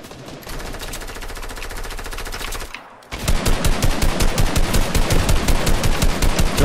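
Rapid automatic gunfire in Fortnite, steady sharp repeated shots that drop out briefly, then return louder and closer in a fast, even rhythm.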